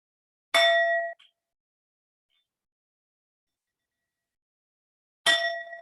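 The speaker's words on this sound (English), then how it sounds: "I am going to ring the bell one time for unity" A single bell is struck at an all-campus college meeting, giving a bright ringing strike that fades over about half a second, then a second strike near the end of an otherwise silent stretch.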